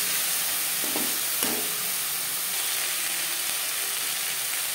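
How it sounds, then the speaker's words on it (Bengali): Ginger and green chilli paste fries with a steady broadband sizzle in a pan for a mutton liver curry, broken by a couple of brief scraping stirs early on, close and continuous with no talking. "কাঁচা গন্ধ যাওয়া পর্যন্ত নাড়াচাড়া করে দেব।"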